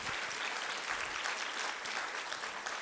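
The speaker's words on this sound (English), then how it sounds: "A round of applause for our keynote speaker, Connie Schultz." Steady applause from a large crowd for a keynote speaker at a human services celebration, dense and continuous clapping throughout.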